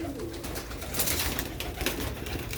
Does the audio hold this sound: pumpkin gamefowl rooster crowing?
no